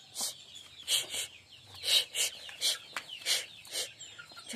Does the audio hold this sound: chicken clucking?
yes